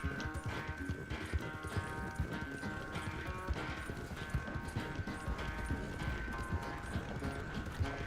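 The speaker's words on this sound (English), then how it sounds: "Please tell me we can get into horse races more often." Galloping horse hooves pound steadily through a race in Red Dead Redemption 2, a dense, continuous rhythm of rapid beats layered under game music and rushing ambience.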